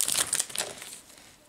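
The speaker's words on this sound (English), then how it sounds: "Just gonna open this one normally without the scissors." A 2019 Topps Series 1 baseball card pack is torn open by hand, giving quick, close crinkling and ripping of the foil wrapper in a short burst that settles into faint rustling.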